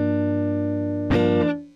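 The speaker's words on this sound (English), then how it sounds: "Now we use a compressor to lower the signal when it's loud and do nothing when it's quiet." Electric guitar, passed through an audio compressor with make-up gain, holds a steady sustained chord at even loudness. A brighter strummed chord enters near the end and then cuts off. No voices.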